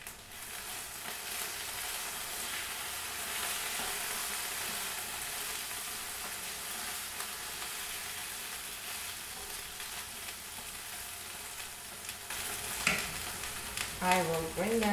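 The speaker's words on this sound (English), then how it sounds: "our potatoes are frying nicely" Potatoes fry in a pan with a steady, close crackling sizzle that carries on throughout, joined near the end by a few brief clinks and stirring sounds.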